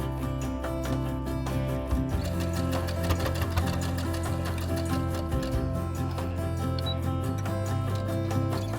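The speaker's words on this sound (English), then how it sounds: "And I can just stitch it up." A domestic sewing machine hums and clatters steadily while stitching a garment's side seam, a fast even needle rhythm running close and continuous under faint background music.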